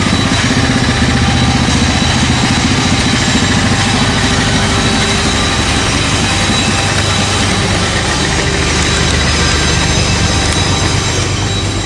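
Engine of a homemade hydrostatic mud mower, converted from a "Dragtor", running steadily at close range with a loud, constant rumbling drone and no break in the noise.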